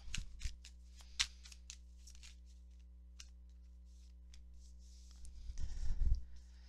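Tarot cards being shuffled by hand during a reading, a series of quick papery riffles and taps close by, with a denser burst of shuffling near the end and no talking over it.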